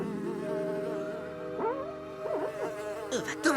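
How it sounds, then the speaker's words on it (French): A housefly buzzes inside a sealed lab in an animated episode, its drone rising and falling in pitch as it swoops close, loud and steady over a sustained tonal background. "Va-t'en, sale mouche."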